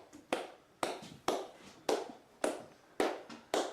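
Sharp hand claps ring out alone in a quiet, reverberant space at an old seaside amusement park, seven separate claps spaced roughly half a second apart, each with a short echoing tail.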